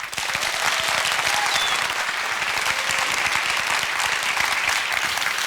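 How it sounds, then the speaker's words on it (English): Sustained, dense audience applause at a young scientists' seminar, a steady wash of many hands clapping close and loud with no gaps. "Some more applause."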